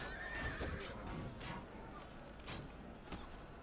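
Horses in the video game Europa Barbarorum let out a shrill whinny over a busy, noisy battle din, with faint hoof clatter and murmured background voices.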